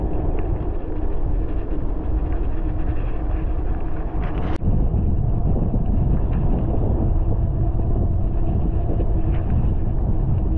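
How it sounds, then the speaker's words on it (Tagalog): Strong wind roars steadily across the microphone on a mountain ride through the Sierra Madre and Cordillera, a constant loud rushing buffet with one brief click midway. "Lakas ng hangin."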